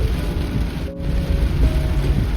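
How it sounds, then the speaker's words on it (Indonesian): Heavy rain pours down on a Daihatsu Ayla 1.2 during a road trip from Medan to Pekanbaru. A loud, dense, steady hiss of rain runs over a low road rumble, with no one speaking. "kalau seandainya kondisi hujan deras gini"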